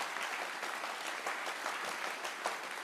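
A large audience at the International Physics Olympiad closing ceremony in France applauds teams, volunteers and teachers, producing a continuous, fairly distant wash of clapping in a big hall.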